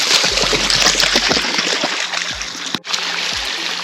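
Children splash and play in the water of an old reservoir in semi-desert Baja California Sur, with repeated sloshing splashes and bursts of spray close by and a brief pause near the end.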